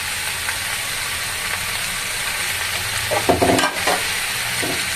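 Chopped gourd with salt and turmeric is stirred in a frying pan: steady hot-oil sizzle throughout, with a few scraping stirs of the spatula near the end.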